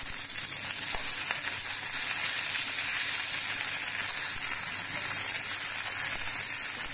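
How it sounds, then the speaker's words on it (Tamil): Vallarai greens sautéing in a pan with garlic give off a steady, even sizzle that runs unbroken the whole time at moderate level, with no voices over it. "வல்லாரைக்கீரை கொஞ்சம் நல்லா வதங்கணும்."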